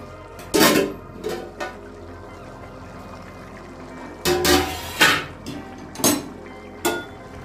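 A lid set down over a pot of prawn curry in coconut, poppy seed and sesame paste, with several sharp metallic clinks and clatters spaced through the clip, close and fairly loud over quiet kitchen background.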